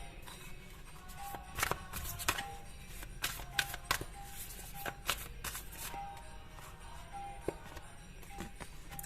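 Tarot cards being shuffled and drawn make quiet riffling bursts and sharp card snaps in an uneven rhythm, close and faint against a low steady background.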